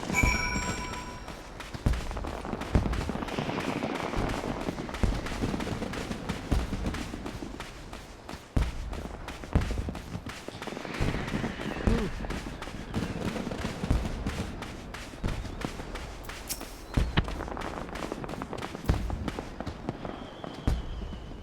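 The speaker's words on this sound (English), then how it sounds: "Fireworks is still going up, so that's nice." Fireworks at a beach event in the video game Final Fantasy XIV, a dense run of crackling bursts and thumps repeating steadily for about twenty seconds at moderate level, with no talk.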